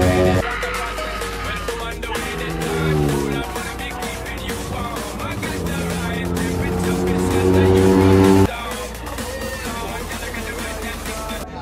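A Yamaha R15 V4 motorcycle exhaust in a drag race revs hard through rising gear pulls, each climbing whine cutting off at a shift, loud and close with voices mixed in.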